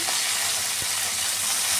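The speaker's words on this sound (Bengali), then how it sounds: "আমি আর একটা পিঠ দিয়ে মাছগুলোকে ভেজে নিচ্ছি" Bata fish frying in hot oil in a kadai, a dense steady close sizzle with one soft low knock partway through.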